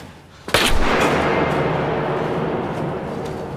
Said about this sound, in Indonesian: Ia segera melepaskan beberapa tembakan secara membabi buta tanpa mengetahui keberadaan targetnya